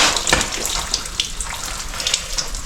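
Coolant gushes and splashes steadily out of a Toyota engine near the water pump, a continuous watery pour with small spattering bursts, close and fairly loud.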